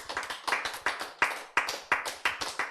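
A church congregation claps in a quick, fairly even rhythm of sharp hand claps, about a dozen strikes over a few seconds, with no speech over them.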